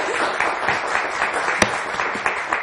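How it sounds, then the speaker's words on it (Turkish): A studio audience on the Turkish TV quiz show Kelime Oyunu applauding steadily and fairly loudly, a dense wash of clapping with one sharper clap standing out. "O zaman o doğrultuda bir teselli alkış kendisine."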